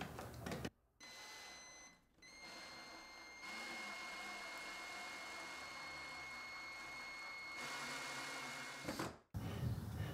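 A drill with a square-tipped bit drives a Kreg screw into a pocket hole in wood joined with a Kreg Jig 310. A short burst runs first, then a long steady whir for about six seconds, close and loud.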